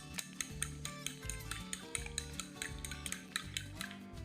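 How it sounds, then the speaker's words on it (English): A whisk beats eggs, seasoned with salt and pepper, together with grated Parmesan in a bowl, a steady run of quick metallic clicks and scrapes against the bowl, close and fairly quiet with no talk. "And I start to whisk everything together."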